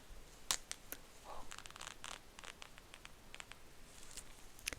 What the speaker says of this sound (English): But it is zipper, zipper, zipper, zipper.